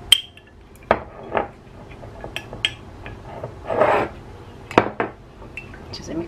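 Chicken pieces being mixed with red chili sauce in a bowl for chicken sticks, with soft rubbing and scraping and a few sharp clinks of utensil against the bowl, close and fairly quiet, with no talk.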